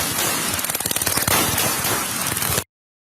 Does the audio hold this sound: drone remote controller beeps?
no